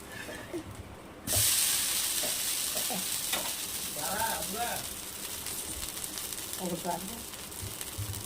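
Dosa frying on a hot pan as oil is poured around its edge, a sudden loud sizzle that keeps hissing steadily while people talk over it.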